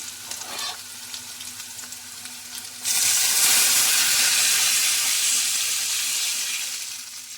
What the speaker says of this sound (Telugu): ఇప్పుడైతే మనకి ఎంత చింతపండు రసం కావాలో ఆ చింతపండు రసాన్ని అయితే వేసుకుంటాను